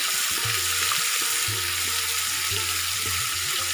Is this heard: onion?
yes